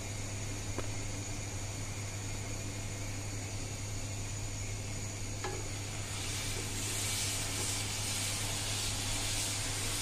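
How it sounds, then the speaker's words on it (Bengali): Raw mango and onion pickle stirred slowly in a pan, a steady low sizzling hiss over a constant low hum, with only a couple of faint spoon taps and no speech. "আমি কিন্তু এটা সব সময় নাড়ছি এবং আস্তে আস্তে হালকা হাতে নাড়ছি নিচ থেকে, যেন লেগে না যায়"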